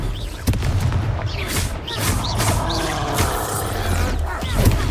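Confringo fire-spell blasts in the Hogwarts Legacy video game, with loud booming explosions and crackling impacts running continuously amid chaotic battle noise.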